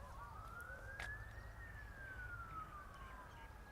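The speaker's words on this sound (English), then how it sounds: "A few sirens going off, I wonder what's happening." A wailing siren rises and falls in pitch over steady traffic rumble near Western Springs Lake in Auckland, New Zealand, sounding some distance away, with no one talking.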